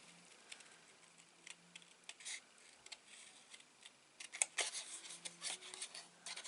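Small scissors snipping paper away from a stamped card, with quiet intermittent cuts and rustles against a low background hum, no talking.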